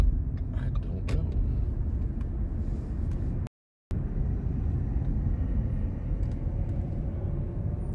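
Airplanes passing overhead above a Las Vegas street, a continuous low, loud rumble that blends with road noise from a car interior, steady throughout apart from one brief dropout.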